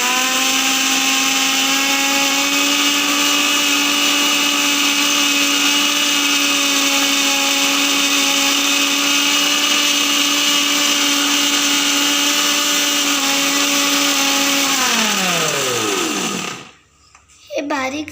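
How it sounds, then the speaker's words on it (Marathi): A kitchen mixer grinder running at full speed with a loud steady high whine, then spinning down sharply near the end before a brief pause and a short restart. "आता आपल्याला घ्यायचं आहे मिक्सर"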